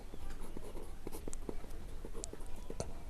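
A pen writing on paper while solving a maths problem: soft, close scratching strokes with short taps, quiet against low room noise.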